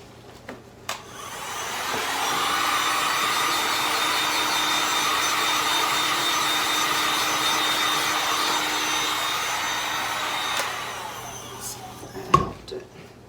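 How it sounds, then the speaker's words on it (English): A heat gun blows over an acrylic resin pour on a painting, a steady whooshing hum that starts after a click, runs for about nine seconds close by, then switches off, followed by a few handling clicks. "I think I might have had my heat gun there too long, maybe."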